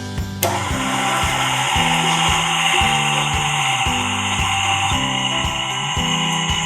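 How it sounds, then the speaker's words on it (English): Electric mixer blending flour into orange bundt cake batter in a bowl, a continuous whirring hum with a regular pulsing rhythm as the beaters turn, close and steady throughout. "When my flour is mixed in, I turn off the mixer"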